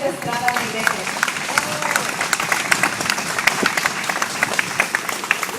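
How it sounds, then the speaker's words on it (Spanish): Dense crowd applause at an outdoor anti-Peña march at Placita Olvera, honoring Professor Agustín Humberto Estrada Negrete, with steady clapping sustained throughout, fairly loud and close, a few voices mixed in. "Démonos, por favor, un fuerte aplauso al profesor Agustín Humberto Estrada Negrete"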